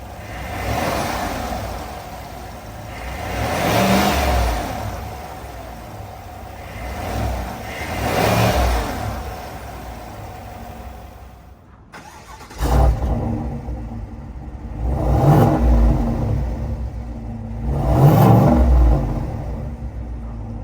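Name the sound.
GMC Sierra AT4 6.2 liter V8 engine starting and revving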